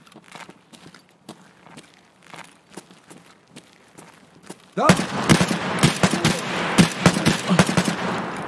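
Gunfire in Escape from Tarkov: faint scattered shots and footsteps give way abruptly to loud, rapid bursts of close automatic fire with a voice briefly audible.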